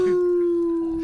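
A dog howls in one long, sustained, steady-pitched wail, close and loud, fading slightly at the end with no other sounds around it.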